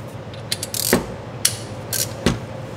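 Ratchet wrench working on the oil filter housing of a 2.0L turbo four-cylinder Lexus IS 200t/IS 300, a few close, distinct metallic ratchet clicks spaced apart in short strokes.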